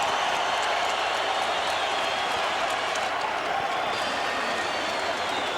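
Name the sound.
Staples Center boxing crowd cheering and applauding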